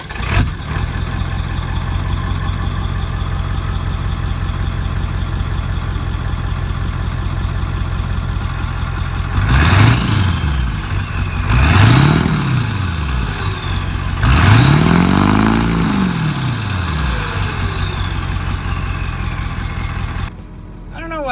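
An older diesel truck engine idles with a steady low rumble, then revs up three times in rising and falling surges before settling back to idle.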